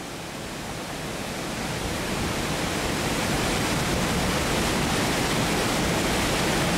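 Water plunging over Aysgarth Falls, a Yorkshire Dales waterfall, makes a continuous broadband roar that swells slightly at the start and then holds loud and even, with no talking.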